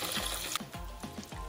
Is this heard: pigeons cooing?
no